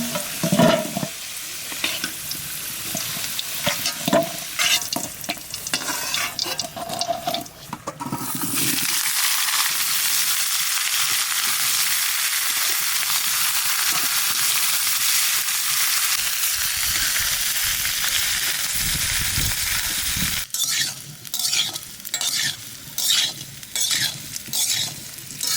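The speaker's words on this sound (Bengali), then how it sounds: "ইঁচড় ভাজা হয়ে গেছে, এইবার ইঁচড় নামাইতে মশলা কষাবো" Tender home-grown young jackfruit fries in mustard oil in a wok, giving a loud continuous sizzle with repeated stirring scrapes. The frying hiss swells for a long stretch in the middle, and bursts of spatula clatter come before and after it.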